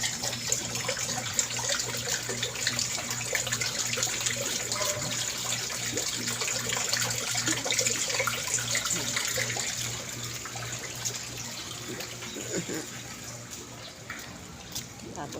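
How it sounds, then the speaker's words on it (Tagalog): A swimming pool pump outlet gushes water in a steady, close splashing rush that eases off slightly partway through, with people talking quietly now and then over the flow. "lakas din ng bulwak ng tubig"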